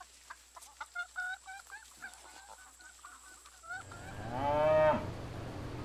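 Cows on a farm moo loudly and close by, one long lowing call rising over goose-like honks and farmyard clucking.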